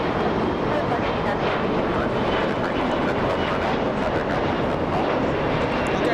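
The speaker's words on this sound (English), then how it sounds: "Emirates A380 lining up as fast as he can go" An Emirates Airbus A380 jet taxis and swings onto the runway at Los Angeles International Airport, a steady, loud broadband engine roar holding without a break, with a voice talking faintly over it.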